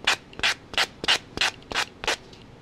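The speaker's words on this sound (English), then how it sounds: "So the sanding just makes it like all one, blends the paper right into the cardboard" Sandpaper is rubbed over paper-covered cardboard in seven quick, even back-and-forth strokes, close and scratchy, with no other sound.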